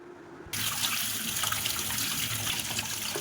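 Mushrooms washed under a running kitchen tap, a quiet start followed by a sudden, steady gush of water splashing close by for about three seconds.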